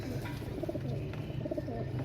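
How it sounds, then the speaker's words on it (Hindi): A pigeon coos softly in a few low, rolling calls against a steady hum of background noise. "ये ओरिजिनल कबूतर है, ओरिजिनल भाई।"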